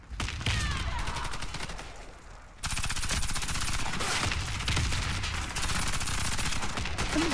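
Kriss Super V submachine gun in its Christmas skin firing in the online shooter Warface, with dense rapid bursts that run almost continuously, loud and close, briefly thinning before resuming at full intensity.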